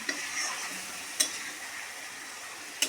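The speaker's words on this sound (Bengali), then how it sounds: "খুব ভালো করে মশলাটা কষিয়ে নেব" Spice paste with a little water being sautéed and stirred in a pan for rui fish curry: a soft continuous sizzle broken by two or three brief utensil clicks against the pan.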